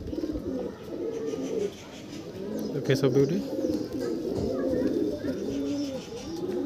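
Pigeons coo in a loft, rolling throaty calls repeating close by while someone talks over them.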